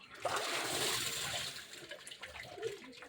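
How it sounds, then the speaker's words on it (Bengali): Palm fruits being rinsed in water, a steady splashing and swishing wash that runs loud for about a second and a half, then eases into softer trickling and sloshing, with no talk. "এখন ভালো করে জলে ধুয়ে নেব।"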